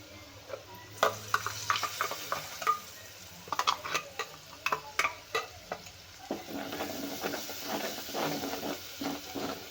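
Ground spices and turmeric roasting in a pan for mutton curry, with a soft sizzle beneath intermittent sharp scrapes and knocks of a spoon stirring against the pan, close and irregular.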